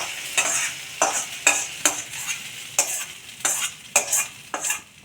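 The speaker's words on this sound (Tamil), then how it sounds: "அதையும் நல்லா ஃப்ரை ஆகிற அளவுக்கு வேக வரணும்" Brinjal gravy cooking in a pan on the stove: a spoon stirs it in about ten separate scrapes, with a soft sizzle of frying underneath each one. The sound is close and clear, and no one speaks.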